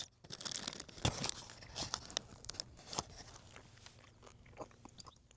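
Someone bites into and chews a flattened, melted pastry while walking, with close, soft crunching, crinkling and mouth sounds in an irregular rhythm, fairly quiet.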